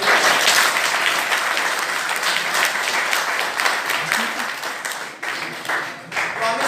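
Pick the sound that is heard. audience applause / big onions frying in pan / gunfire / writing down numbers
audience applause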